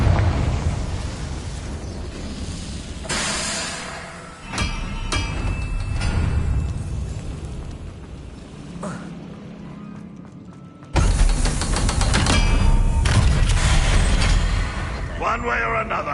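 A Confringo spell explosion in Hogwarts Legacy, loud booming bursts across the clip with a sharp blast near the eleventh second, amid game effects and a voice.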